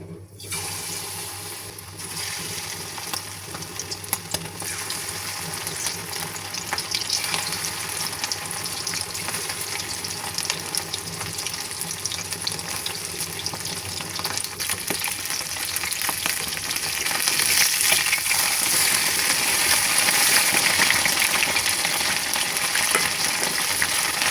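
Fritters made from fish oil frying in hot oil, a long continuous sizzle that grows louder and brighter partway through, with occasional light stirring sounds.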